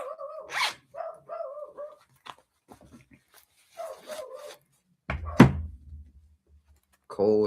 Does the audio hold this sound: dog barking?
yes